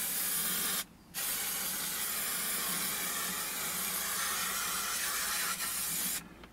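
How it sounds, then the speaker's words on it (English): An aerosol can sprays contact adhesive onto fabric in a long, loud steady hiss, broken by one brief pause before continuing and cutting off near the end, close up with no talk. "You're going to spray the contact area, like that. But you've also got to spray the fabric as well."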